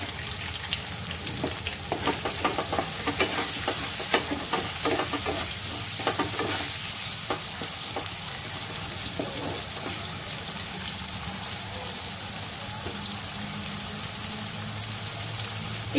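Capsicum with salt frying in a pan while making paneer pasand, a steady close sizzle with scraping stir strokes that are clustered early on, continuing alone without any talk.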